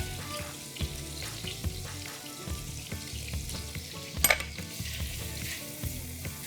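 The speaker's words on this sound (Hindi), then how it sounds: "और फिर हम उसमें प्याज शामिल करेंगे।" Garlic and onion sauté in Blue Band margarine, giving a steady, close sizzle and crackle throughout, with a brief sharp clink of a utensil against the pan partway through.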